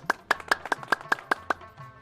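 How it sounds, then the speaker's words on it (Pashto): A small audience claps for a poet at a gathering, nine or so evenly spaced claps over two seconds that then fade out, fairly close and moderately loud. "راځئ چکچکې ورته وکړي"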